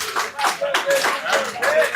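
Audience clapping at an intimate dinner celebration in Montreal marking the group Klass's 13th anniversary, close bursts of hand claps swelling and dipping in waves, with voices mixed in.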